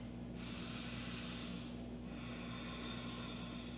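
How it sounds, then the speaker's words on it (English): A yoga instructor breathes in and out during a flow class: one long, close, airy breath through the nose, strongest early and easing off, over a steady low hum. "Breathing in and out."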